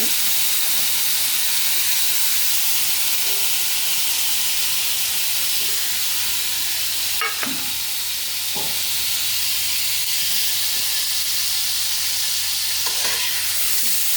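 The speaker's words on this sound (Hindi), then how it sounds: "तो इसको हम पहले फ्राई कर लेंगे" Paneer fries in hot oil in a kadhai, a loud continuous sizzle and hiss with occasional soft scrapes and clinks of stirring.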